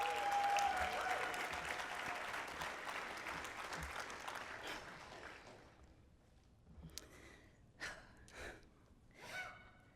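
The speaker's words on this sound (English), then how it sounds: "Please give another round of applause for Albert." An audience at a city awards ceremony in Tacoma applauds an honoree. Dense clapping fades out over about five seconds, and a few close breaths and sniffs follow.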